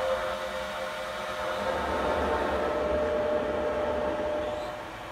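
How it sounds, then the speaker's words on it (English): A radon mitigation system fan runs without a muffler, producing a continuous broadband whooshing drone with a low rumble, close and steady throughout. "So here I have a radon mitigation system fan, and you can hear it operating right now."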